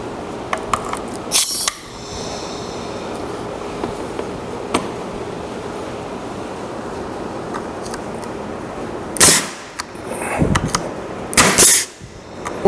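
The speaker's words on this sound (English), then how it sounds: "So let's see if this nail gun works." A pneumatic nail gun fed by a long air hose fires into a wooden fence, giving a sharp burst near the start and two louder bursts later, separated by a steady hiss and soft clicks.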